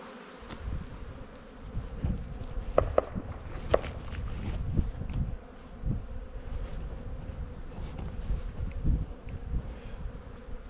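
Bees hum and buzz steadily and close around an open hive during an inspection on a ranch, a dense drone with brief louder passes of single insects and a few soft knocks and handling sounds.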